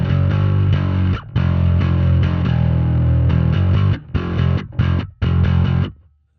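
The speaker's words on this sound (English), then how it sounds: "My goal here is to have a low gain drive sound and then a high gain drive sound." Bass guitar played through a Tube Screamer–style low-gain drive on a Sonicake Matribox II Pro, giving loud, gritty sustained notes and riffs with a few short gaps before it stops.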